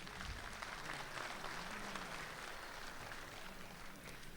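An audience at a Dubai mushaira and kavi sammelan for Indian Republic Day claps steadily as a bouquet is presented. The applause is faint, distant and continuous, with no clear voices over it.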